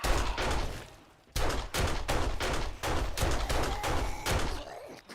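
Automatic turrets firing in the video game 7 Days to Die, heard as loud rapid bursts of gunfire in a steady rhythm of repeated volleys with brief gaps.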